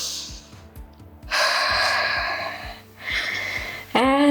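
Deep breathing during a dance-inspired mat pilates stretch, two long audible exhalations over a steady rhythmic beat of workout music, each breath rushing and then fading.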